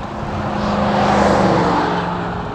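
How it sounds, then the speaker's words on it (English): A truck drives past on a road, a broad engine and tire roar swelling to a peak at mid-pass and fading slightly afterward, heard close and alone with no talk. "You hear that truck?"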